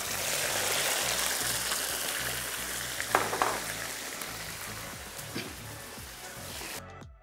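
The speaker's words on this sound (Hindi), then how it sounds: "यहाँ पे तेल गर्म हो गया और हमने इसमें 1 किलो चिकन बोटी कट," One kilogram of boneless chicken pieces fries in hot oil in a dhaba-style karahi, giving a loud, steady sizzle with a few sharp clatters of stirring partway through. No one speaks, and the sound cuts off abruptly at the end.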